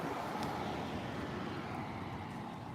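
A car engine hums faintly and steadily as the car drives out along a street, a low distant rumble with no voices.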